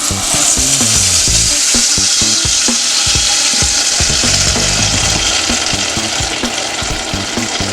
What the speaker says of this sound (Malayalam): ഞാൻ ഇതിലേക്ക് അരച്ചു വെച്ച മാങ്ങോ പൾപ്പ് ഇതിലേക്ക് ഇടുന്നുണ്ട്.